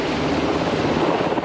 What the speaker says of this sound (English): Black Hawk helicopters thunder into position over the Garden Island Navy base